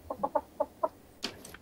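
A blue hen clucks in a quick series of five short, evenly spaced notes, then gives a higher squawk; close and clear.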